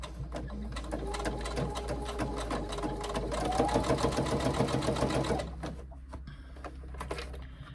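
A sewing machine stitches a 3/8 inch seam on a tote bag, running steadily and close for about five seconds with a rhythmic mechanical chatter before it stops. Low background hum continues afterward.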